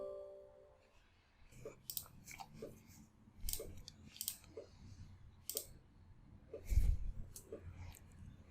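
Mouse clicks sound during a Windows 10 software installation, a string of small, close, quiet clicks at an irregular pace.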